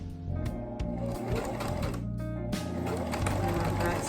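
A sewing machine runs steadily and close while back stitching a vest, a continuous rapid mechanical chatter with a brief change in pace partway through and a voice talking over it.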